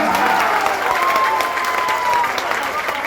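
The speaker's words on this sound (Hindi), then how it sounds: "एक बार आप ताली बजाइए" Audience at a political rally in Belaganj, Bihar, breaks into loud, sustained applause filling the whole stretch, with crowd noise and a voice mixed in underneath.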